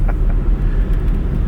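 A 2011 BMW 328 xDrive six-speed manual wagon cruises in 4th gear at speed, with a steady, loud engine and road roar filling the cabin and no talking.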